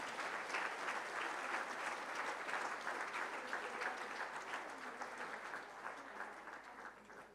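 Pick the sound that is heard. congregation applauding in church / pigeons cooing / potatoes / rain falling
congregation applauding in church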